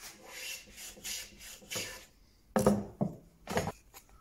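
Wood being rubbed down by hand for a carriage clock shelf, heard as a run of rhythmic abrasive strokes, then a few louder, sharper scrapes, close up with no talk.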